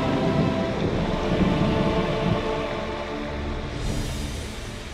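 Rain and thunder in the video game Lost Ark make a heavy, steady rush of rainfall over a deep rolling rumble that eases slightly toward the end.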